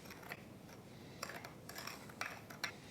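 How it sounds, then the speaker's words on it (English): Granulated sugar mixed with ground cinnamon is stirred in a bowl, giving a few faint, sparse clicks and scrapes of a utensil against the dish in a quiet room. "to the sugar, I'm going to add 1 teaspoon of ground cinnamon and just give this a stir."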